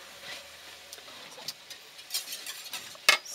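Already-cooked ham goes into a frying pan of asparagus and mushrooms for a frittata, bringing soft sizzling with scattered spoon scrapes and clicks, ending in a sharp clatter.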